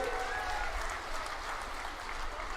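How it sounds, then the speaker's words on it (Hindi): A crowd at an Amit Shah election rally in Rohtak claps steadily, with dense applause holding evenly from start to finish. "सब ताली बजाओ बाबा के लिए।"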